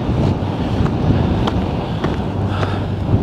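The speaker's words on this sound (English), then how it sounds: "it's very windy" Strong wind roars across a mountainside in Snowdonia, battering the microphone with a steady, dense rumble and small gusty surges, with no one speaking.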